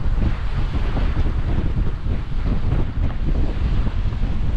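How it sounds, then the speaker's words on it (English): A wind gust sweeps across open water while sailing on a sailboat, a loud, steady roar of wind buffeting the microphone with splashing water and hull noise underneath, holding strong throughout with no voices. "About to get a bit of a gust."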